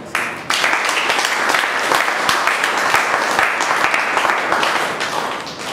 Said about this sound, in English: we also deserve a big round of applause for being a part of this wonderful organization